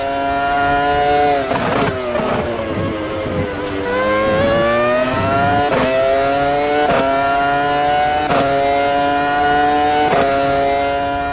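A 2001 Ferrari Formula 1 car with a screaming V10 races in the sim game Automobilista 2, its engine howling loudly and continuously, climbing through the revs with repeated sharp gear-change dips and rising whines.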